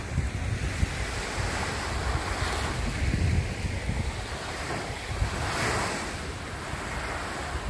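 Strong surf pounds the shore at Olanivan Island in the Balut Islands, Davao Occidental, a broad, steady wash of crashing waves mixed with gusty wind buffeting the microphone, with no voices.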